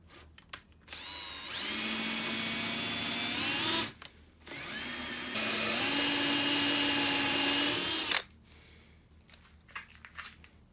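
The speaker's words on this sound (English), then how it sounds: "It's really important to keep the drill bit at exactly 90 degrees." Two long bursts of a power drill boring bench dog holes into a wooden workbench, high-pitched and whining, separated by a short pause, with light handling noises around them.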